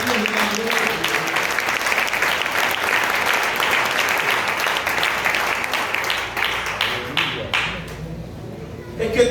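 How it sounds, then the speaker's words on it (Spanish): Loud applause from a congregation during a Spanish-language church service, dense sustained clapping that fills most of the stretch, then thins out and fades near the end. "Ese aplauso fuerte a Dios"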